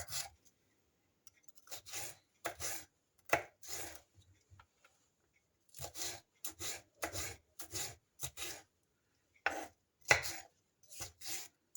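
A knife chops Çarliston peppers on a board, with crisp repeated cuts in quick bursts separated by short pauses, close and clear.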